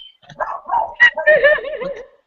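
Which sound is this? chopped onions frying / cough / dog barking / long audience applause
dog barking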